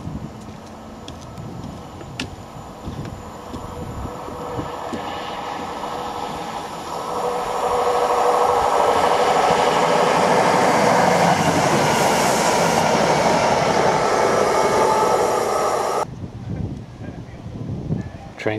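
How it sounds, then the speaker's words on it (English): A train rumbles over a railway bridge by the river meadows at Kennington near Oxford, building to a loud sustained roar of wheels and carriages for several seconds before cutting off. Someone speaks in the quieter stretches. "Train seems to come through quite regular."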